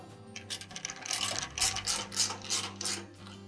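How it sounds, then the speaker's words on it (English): A ratchet drives screws into the front bulkhead of a Kenmore clothes dryer during repair, making rapid, close clicking strokes in repeated bursts with faint metallic rattles and no talking. "Install the other two screws on the front of the bulkhead."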